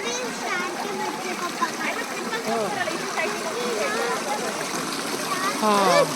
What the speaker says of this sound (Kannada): ಫಾಲ್ಸಲ್ಲಿ ನೀರಲ್ಲಿ ಯಾರು ಬರಬೇಡಿ, ತುಂಬ ಉಕ್ಕಿ ಹರಿತಾ ಇದೆ.